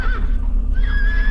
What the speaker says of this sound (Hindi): कुछ सेकंड बाद लोगों को हिनहिनाने की आवाज आई।